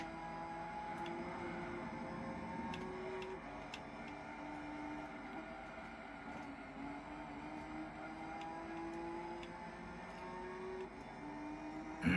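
A car engine in the Gran Turismo 3 license test on PlayStation 2 drones steadily at low volume, its pitch rising and falling with shifts and revs and small clicks over it, with no talk.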